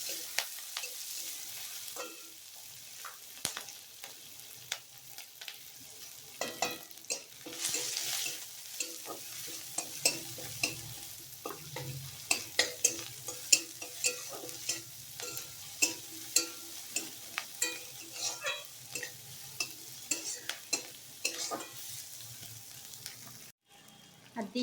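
Chopped garlic, onion and slit green chilli frying in oil in a wok, with a steady soft sizzle and repeated scraping stir strokes of a spatula against the pan, fairly quiet and with no talking.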